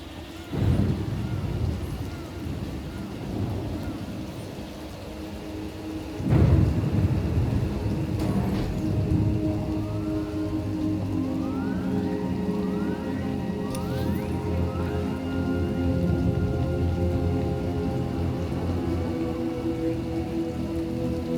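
Thunderstorm with steady rain in a Star Wars video game, a constant patter with rolling thunder rumbles near the start and around the middle, ambient tones sustained underneath.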